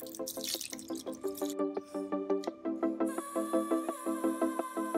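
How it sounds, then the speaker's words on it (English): Beef broth glugs and splashes as it is poured into a pot of beef stew, a close, rhythmic gurgling of liquid that continues alone without speech. "Next up is the beef broth."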